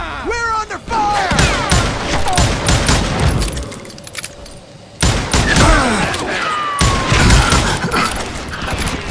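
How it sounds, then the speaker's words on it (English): Gunfire in the Western shooter Call of Juarez Gunslinger: loud bursts of rapid shots and ricochets fill most of the stretch, broken by a short lull before another heavy volley. "Who's shooting at us? We're under fire!"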